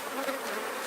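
Honey bees from an aggressive swarm buzz around a large, dark-combed hive, a dense, steady close-up drone that lasts under a second.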